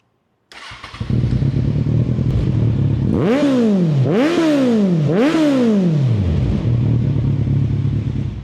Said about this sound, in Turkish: Şimdi motora cold start verelim. Sesini bir dinleyin.